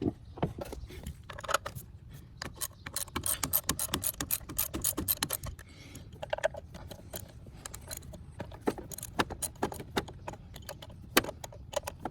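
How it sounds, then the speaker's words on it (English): A ratchet with a 10mm socket loosening ignition coil bolts on a 2003 Jeep Liberty engine, giving close rapid bursts of metallic clicking interspersed with brief pauses and small clinks. "Now we need a 10mm to remove the coil."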